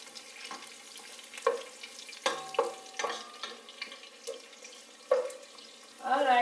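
Onions fry in a pan for a homemade manicotti sauce, giving a soft sizzle broken by scraping stirs and clinks, with a voice briefly heard and a louder stir near the end.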